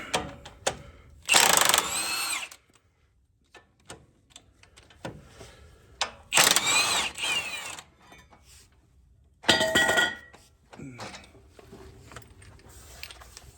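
Ratchet wrench loosening the 24 mm mounting bracket bolts on the front hub of a 2008-2010 Ford F250; bursts of rapid clicking come in three separate runs with quieter metallic handling between them.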